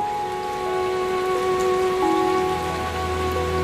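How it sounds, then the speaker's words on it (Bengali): Rain falls steadily in an even, continuous patter with a faint steady hum underneath, and no voices. "বৃষ্টি কিছু মানুষের বিলাসের কারণ হলেও মোহসানার জন্য এক জীবন অভিশাপ।"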